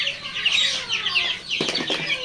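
Young layer chickens, about one and a half months old, cluck and chirp close by in quick overlapping calls, with a short flutter of wings near the end.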